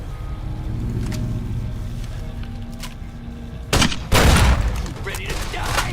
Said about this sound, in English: It's my grenade rifle.